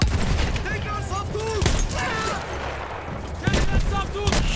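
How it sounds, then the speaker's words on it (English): Shotgun blasts in a first-person shooter game, several loud booming shots spaced across the clip amid battle noise, with voices talking underneath. "Shotguns."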